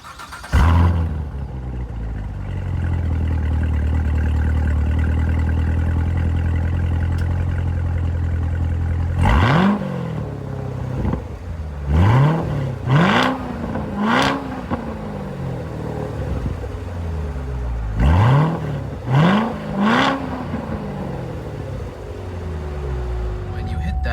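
A 6.2-liter V8 in a 2019 Chevrolet Corvette Z06 1LZ fires up with a loud bark, settles to a steady idle, then gets several sharp blips of revving, each rising and falling quickly, up close.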